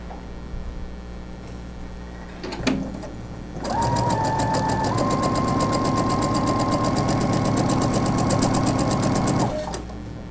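A sewing machine runs a straight stitch along the tip of a cloth napkin edge, a steady rapid mechanical whir lasting several seconds after a few brief handling clicks, close and loud.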